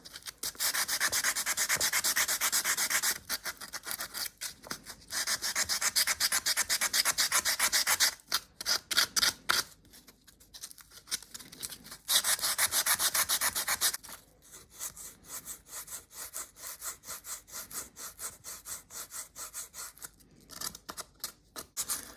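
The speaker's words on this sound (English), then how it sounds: "take a piece of tin foil and ball it up, and we're going to rub it and remove this rust" A ball of tin foil rubs rust off the metal wheels of a Cybex Balios pushchair, long bursts of harsh rapid scrubbing separated by short pauses and quieter passes, close and with no voice.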